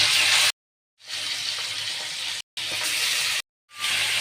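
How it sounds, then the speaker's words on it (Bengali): Fish fries in mustard oil in a wok with a bright, loud hissing sizzle, heard in three bursts separated by abrupt silent gaps, with no voices. "তেল গরম হয়েছে, এখন আমি মাছ দিয়ে এপিট ওপিট করে ভেজে নেব"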